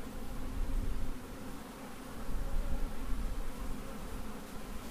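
Honey bees swarming around an open hive as a frame is lifted out, a dense, steady buzzing drone that fills the space at close range without any voices.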